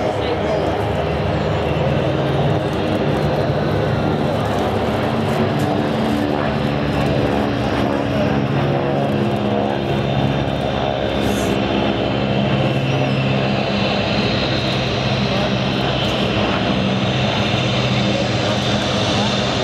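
Steady, loud drone of a C-47 Dakota's piston engines turning propellers on the airfield at Duxford, a continuous dense roar filling the scene with no break throughout.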